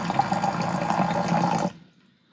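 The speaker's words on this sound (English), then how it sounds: "I'm going to stop the nutrient flow right when it gets to the bottom of that net cup" A pump sends hydroponic nutrient solution pouring into a net cup, a loud steady gushing and splashing flow that cuts off abruptly, leaving a few faint drips.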